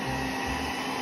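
Thamtu G11 robot vacuum running on low pile carpet, a close, steady whirring motor hum with constant level and no pauses.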